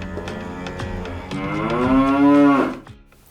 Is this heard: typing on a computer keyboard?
no